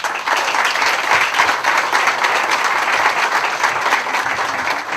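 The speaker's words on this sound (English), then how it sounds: "So please give all of our families a big round of applause." Audience applause fills the room at a corporate staffing-company event, a steady, dense wash of clapping from many hands held at an even level throughout, with no voices standing out.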